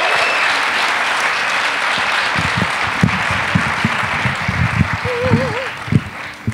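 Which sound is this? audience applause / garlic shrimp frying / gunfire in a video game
audience applause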